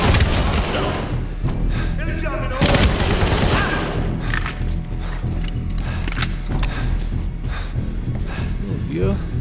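Enemy gunfire in the video game Medal of Honor Warfighter, with dense bursts of rapid shots and mechanical clatter going on continuously, while someone talks over the shooting.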